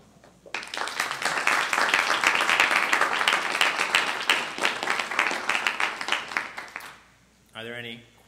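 An audience at a DrupalCon conference session breaks into applause after a talk, a dense wash of clapping that starts abruptly, holds for about six seconds, then fades before a brief spoken voice.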